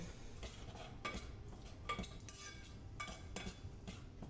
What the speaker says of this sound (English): You got to keep stirring these onions regularly